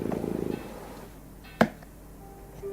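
A cat purrs in a short burst of steady rapid pulses, close and moderately loud, then falls silent before a single sharp knock sounds, with faint background hiss throughout.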